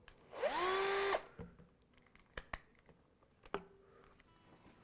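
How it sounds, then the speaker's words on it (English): A power drill spins up in a single short whining burst as it touches off screw holes in a guitar pickguard. Scattered light clicks and taps follow in a quiet workshop. "we're going to touch off on the holes using a drill that just fits in the hole"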